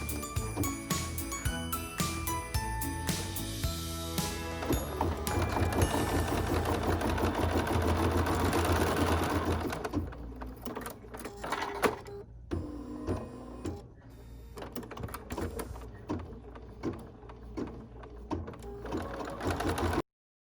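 An embroidery sewing machine stitching out a holiday ornament design, a steady close mechanical whirring and rapid needle chatter that shifts pace and pauses briefly, then resumes in quicker bursts.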